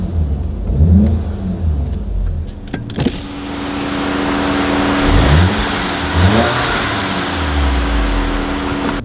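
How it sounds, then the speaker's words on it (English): A Mk7 Volkswagen GTI with a diverter valve spacer idles, then revs up twice in quick succession, each rev rising and falling, with a few sharp clicks before the engine settles back. "Let's just do a little rev in the car."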